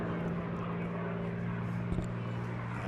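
Propeller aircraft making a pass at the Eastbourne airshow, a steady moderate engine drone holding evenly throughout, with a couple of faint clicks near the end.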